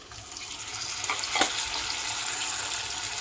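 Chopped tomatoes drop into hot oil in a pressure cooker pan for an egg curry, giving a loud steady sizzle with a brief burst of spitting, close up and without speech.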